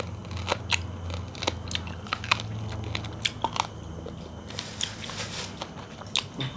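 Chewy beef tail tendon from a Thai boiled oxtail dish being chewed close up, with repeated wet crunchy bites and squelches in an uneven rhythm over a low steady background hum, no talking.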